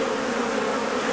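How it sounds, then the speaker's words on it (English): Honeybees swarm the busy entrance of a WBC hive, producing a steady, dense buzzing drone that stays loud and continuous throughout, with no voices. "So this is our WBC hive, very busy at the entrance today."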